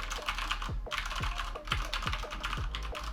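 Fingers type steadily on a Corsair K65 Mini 60% gaming keyboard, a close, even run of crisp key clicks at a quick rhythm with no voices.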